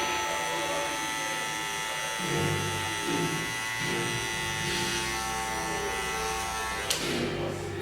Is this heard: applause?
no